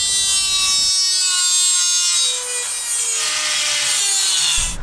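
A small, underpowered cutting disc on a grinder slicing through thin, rusty sheet metal on a 60 Series Land Cruiser, a continuous loud high-pitched whine with a shifting tone as the disc bites, close up and alone.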